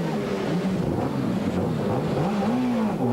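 A race car drives out during the 1995 Spa-Francorchamps 24 Hours at night: a continuous engine drone whose pitch rises and falls, heard through heavy wind-like rushing noise.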